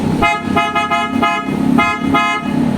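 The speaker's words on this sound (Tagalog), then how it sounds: "Ito yung tunog ng Ford Superior Bass." PIAA Superior Bass car horn fitted to a Ford Ranger Raptor blasts loud and close in several short honks of varying length, with no talking.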